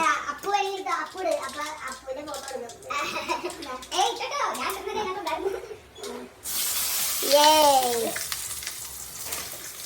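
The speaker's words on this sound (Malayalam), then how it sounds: "നമ്മുടെ കടുക് പൊട്ടി തുടങ്ങിയിട്ടുണ്ട്." Mustard seeds crackle and splutter steadily in hot oil in the background while a child and an adult talk over it, the spattering growing louder toward the end.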